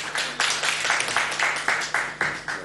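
Studio audience on a Turkish TV show applauding as a guest businessman is invited on stage, with a series of rhythmic bursts of clapping swelling and fading, loud and close.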